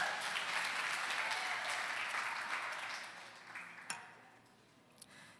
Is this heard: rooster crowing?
no